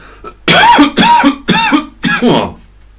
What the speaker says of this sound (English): coughing all over you, sorry about that